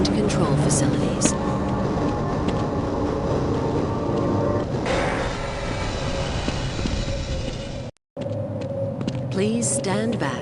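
A tram carriage in the video game Half-Life rolls steadily along its track with a dense, continuous rumble and clatter. A brief dropout interrupts it near the end, and an automated announcer voice speaks over the motion.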